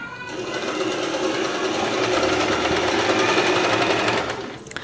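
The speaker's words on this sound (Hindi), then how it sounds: "पिको ज़िगज़ैग मोड लेकर हमें सिलना होता है, इसे भी कर लेते हैं।" An Usha Janome Dream Stitch sewing machine runs a zigzag stitch along the edge of a saree, a steady close mechanical whirr with rapid needle clatter that starts, holds for several seconds, and stops.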